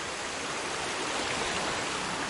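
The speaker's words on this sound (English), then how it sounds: "This river is called Santa Anita, and look at this beautiful place." The Santa Anita river flows through the Tutunendo jungle in Chocó, Colombia, a close, loud and steady rushing hiss of water that fills the whole moment without pause or voices.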